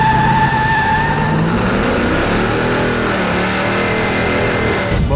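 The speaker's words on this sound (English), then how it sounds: "But we can take this thing for a Burnout." A loud, close car burnout: the engine roars at high revs with a rising whine, and harsh tire scrub builds over a few seconds.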